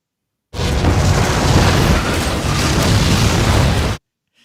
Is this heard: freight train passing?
no